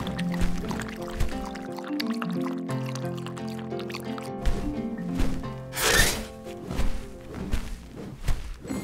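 A cartoon Ankylosaurus drinks water, giving liquid sloshing and dripping sounds over background music with sustained tones, plus a brief louder splash near the middle.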